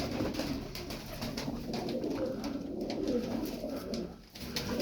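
Pigeons coo steadily and softly throughout, a continuous murmuring bubble of low calls with faint background rustle.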